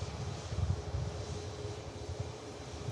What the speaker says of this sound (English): Ryanair 737 MAX coming in from Copenhagen